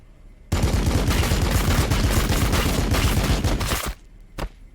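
Heavy armor unit in Warhammer 40K Battlesector opening fire, a loud sustained burst of rapid heavy gunfire lasting several seconds, cutting off abruptly, followed by one brief trailing shot.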